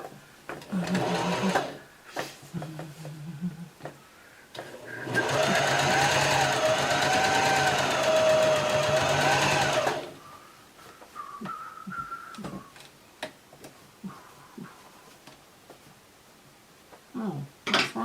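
A sewing machine stitches in a steady whirring burst of about five seconds, with shorter bursts and clicks around it as fabric is handled; occasional speech comes between runs.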